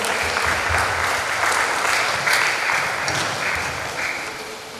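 A graduation audience at SMA Stella Maris, North Jakarta, gives hearty applause to students after they perform two songs; the clapping stays full and continuous throughout, slowly easing off near the end.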